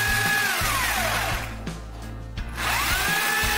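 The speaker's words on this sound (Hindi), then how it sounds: "तो ये 0 में करके हम लोग सबको ड्रिल कर लेंगे।" An electric drill with hammer mode switched off bores into a switchboard at home, whining loudly and steadily as it winds up, eases off and slows in the middle, then speeds back up, alone without talk.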